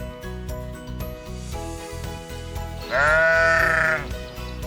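Bighorn sheep in Death Valley gives one loud, wavering bleat midway through, rising over a steady rhythmic backdrop of tonal music.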